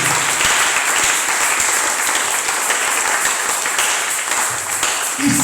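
A church congregation at a Sunday service applauds and cheers for the name of Jesus, dense continuous clapping from a large crowd that holds steady throughout.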